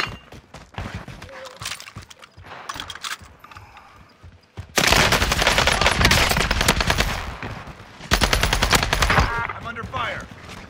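Machine gun fire in the Warzone video game, with scattered shots followed by two long, loud sustained bursts, close by and dense, with brief gaps between them.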